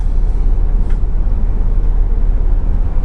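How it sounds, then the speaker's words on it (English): A truck rolls past close by in a loud, steady low rumble of road and engine noise. "As soon as this truck goes by, we'll get out of here."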